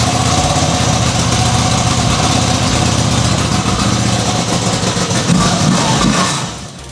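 A Moto Guzzi-style V85 Strata motorcycle engine runs inside a showroom, a loud close throbbing idle that holds steady and then cuts off near the end.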